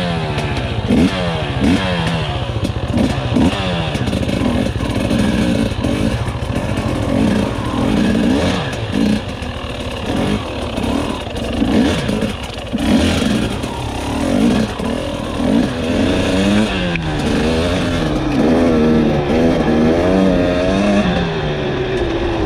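A 2021 Husqvarna TE300i dirt bike on its break-in day revs steadily on a snow-covered trail, its loud, close engine droning continuously with rising and falling pitch throughout.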